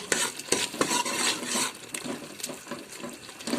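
Minced meat keema and whisked yogurt are stirred and fried together in a pan, with busy spoon scrapes and clinks over a wet, bubbling sizzle that rises and falls in short bursts.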